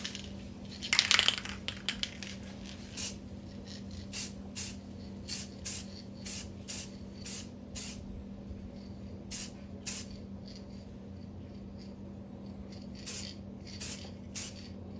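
Spray paint hisses onto the filled areas of a guitar body in a long series of short, evenly spaced bursts, close and distinct over a low steady hum, with a can rattle near the start.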